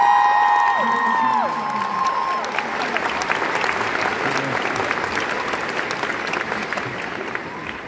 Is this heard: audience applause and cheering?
yes